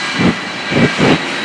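Jet engines on the Shockwave jet truck roar in three swelling bursts, loud and close over a steady broad rush, with no talk.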